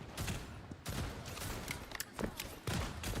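Gunfire in the hero shooter Marvel Rivals, rapid bursts of shots cracking loud and close, overlapping with game effects in a busy mix.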